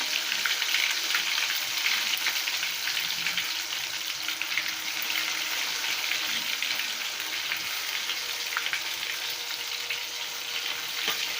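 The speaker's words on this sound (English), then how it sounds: "I'm going to deep fry them and till they are cooked" Turmeric-coated pieces deep fry in hot oil for a biryani, making a loud, dense, steady sizzle and crackle that carries on alone and unbroken.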